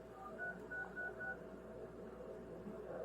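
Telephone keypad tones: a quick run of about five distinct dialing beeps, faint and close, over steady background hum inside a jail setting.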